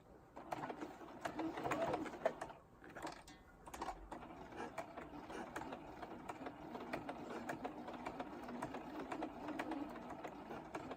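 A sewing machine stitches through a thick quilted acrylic-painted pineapple artwork, a quiet run of rapid mechanical ticking in bursts with short pauses, with talk over it.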